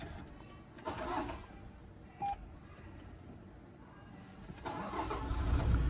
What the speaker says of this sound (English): okay, let me start it.